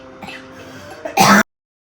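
A single short, harsh cough bursts out near the end, loud and close, over a quiet indoor background with faint hum.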